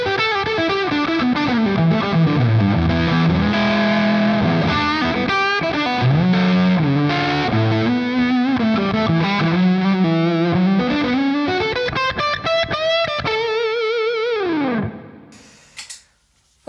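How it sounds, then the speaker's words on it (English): Electric guitar played through a Dophix fuzz pedal, a thick distorted melodic line with sliding notes and sustained chords, loud and continuous before cutting off near the end, with no talking. "here is the fuzz."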